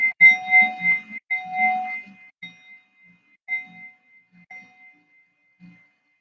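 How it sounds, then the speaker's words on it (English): A set of seven meditation bells, one tuned for each chakra, struck one after another so each clear ringing tone decays into quiet before the next soft strike. "You have seven bells, one for each chakra."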